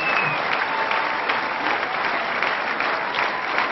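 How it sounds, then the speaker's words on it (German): Sustained, dense applause from an audience, steady and fairly loud throughout. "Du siehst es, du hörst es. Und ich glaube, dieser Applaus bedeutet nichts anderes"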